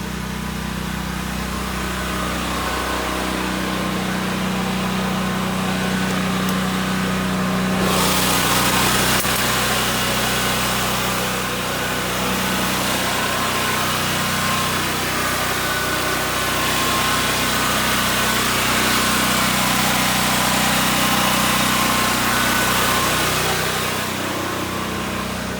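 A Predator 8750 generator runs inside a shed, a loud steady engine drone that grows brighter and louder when the shed is opened partway through, continuing unbroken to the end.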